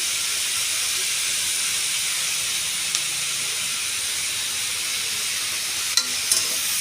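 Steady sizzling and hissing of frying in a pan after turmeric powder goes in, a constant bright hiss at moderate level with a few faint clinks near the end.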